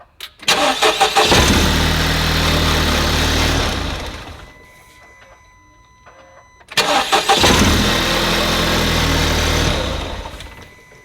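A car engine cranks and catches, runs roughly for a few seconds, cuts out, then cranks and starts again, running loud and close.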